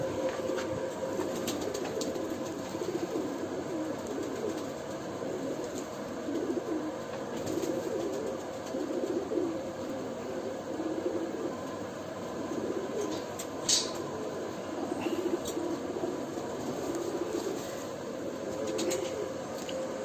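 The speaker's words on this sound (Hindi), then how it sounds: "तो ये मेरे अपने ही कबूतर हैं जी" Nayab Doobaz pigeons coo steadily and continuously at close range in a loft, soft layered calls with occasional wing flutters over a constant background hum.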